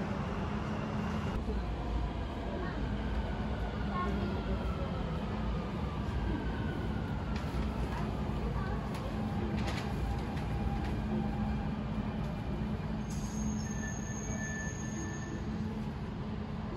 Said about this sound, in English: This is a brand new train exclusively for the new line.